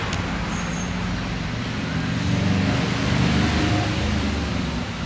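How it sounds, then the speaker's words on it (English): Tuk-tuk ride through traffic in Sri Lanka, a steady rumble of engine and road noise, slightly louder midway, with surrounding vehicles blending in. "It's a different experience to ride in tuk-tuk."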